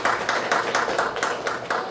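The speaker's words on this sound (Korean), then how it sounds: "큰 박수 부탁드립니다" Audience at a residents' meeting on an urban redevelopment project clapping steadily, a dense patter of many hands with a regular pulse, filling the whole moment.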